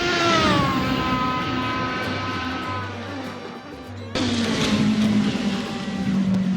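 V8 engine of the Cadenza V8 Polaris race car in the Assetto Corsa racing game, a loud continuous howl that climbs through revs, sags and dips, then jumps back up in a fresh surge of acceleration.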